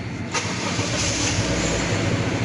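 A Honda Brio car engine starts up nearby with a brief cranking burst, then settles into a steady, loud running rumble.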